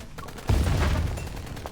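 A proto-core explosion bursts in the video game Love and Deepspace, a deep heavy boom with a rumbling tail, fairly loud and close over a steady background.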